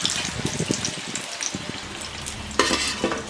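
Sweet potato bondas fry in hot oil with a close, continuous bubbling sizzle. Scattered pops and scraping turns of a ladle run through it, and a louder burst of hissing comes near the end.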